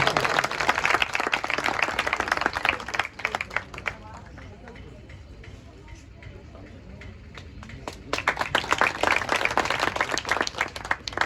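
School audience clapping bursts out loudly, fades to scattered claps and murmuring in the middle, then surges again into a second round of vigorous applause.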